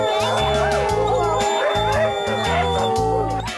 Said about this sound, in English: On the farm, dogs welcomed us with a joyful howl.